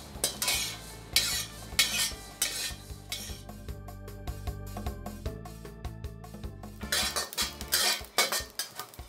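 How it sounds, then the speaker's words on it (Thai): Coriander seeds are dry-roasted in a pan, and a utensil stirs and scrapes them with rapid, close clattering and rattling throughout. No voices are heard. "ตามไปจึงคั่วลูกผักชีให้พอหอม"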